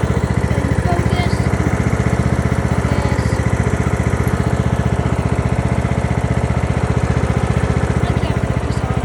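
A small tractor's engine runs while driving, a loud, close, rapidly pulsing mechanical chug that stays steady throughout, with a voice faintly present beneath it.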